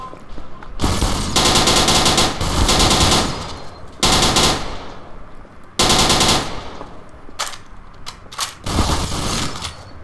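An Uzi fires in Garry's Mod, several loud rapid-fire bursts separated by short gaps, followed by a few scattered single shots near the end.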